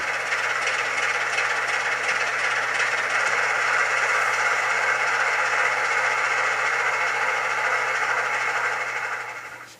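Model railway DC locomotive engine sound played through a PC rather than an onboard decoder, a steady droning engine rumble with rail-like hiss holding at an even level throughout before fading at the end.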